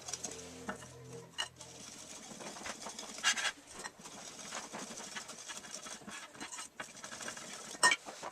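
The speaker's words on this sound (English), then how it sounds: "It works fine just mixing it with a whisk, or if you want a wooden spoon." Brownie batter being stirred by hand with a whisk in a bowl, a soft continuous scraping and clinking that swells briefly a few times, close and fairly quiet with no talk.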